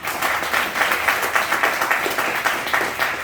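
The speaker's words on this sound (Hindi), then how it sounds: "तो मैं ट्यांसी के लिए जोरदार ताली चाहूंगा" An audience at a Tiens business meeting in Meerut applauds, a dense burst of many hands clapping steadily for a few seconds.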